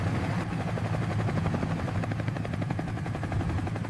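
A helicopter flies over London, its loud rotor chopping in a fast, steady rhythm with a constant engine drone, heard up close as if from inside the cabin.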